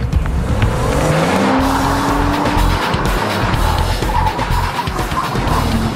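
Car with ceramic brakes driven hard, engine roaring loudly with sustained tire squeal and skidding over a busy, close roar, no voices.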